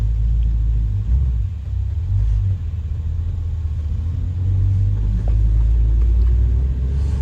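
A 1963 Ford Fairlane 500 sedan with a three-on-the-tree column shift cruises down a road, its engine and tires making a steady, close low rumble throughout with no talking.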